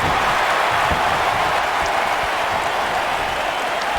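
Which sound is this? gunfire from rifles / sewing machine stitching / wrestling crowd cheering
wrestling crowd cheering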